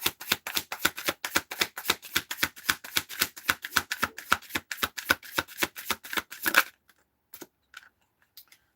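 A deck of tarot cards being shuffled in a quick, steady run of crisp riffling snaps, close and fairly loud, stopping abruptly and followed by a few faint touches of the cards.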